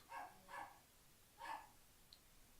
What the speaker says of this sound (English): my dog's barking on distracted me